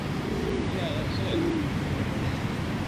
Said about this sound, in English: A flock of pigeons who just landed and listening to our meeting.